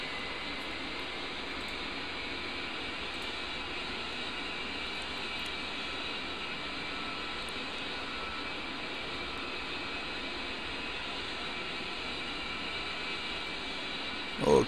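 Jet engines idle steadily in the DCS World combat flight simulator, a constant even roar and hiss that holds unchanged for about fifteen seconds, with a brief click at the end.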